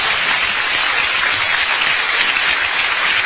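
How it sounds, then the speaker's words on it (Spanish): Loud, dense applause from a church congregation, continuous clapping that fills the space evenly from start to finish. "Denle un aplauso al Señor."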